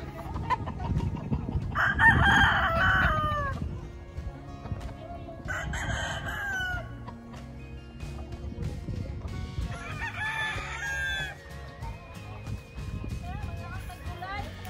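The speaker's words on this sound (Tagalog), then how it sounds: "We got a lot of roosters. Good breeding roosters." Breeding roosters crow repeatedly on a chicken farm, several drawn-out calls at moderate distance with clucking hens around, while people talk over the birds throughout.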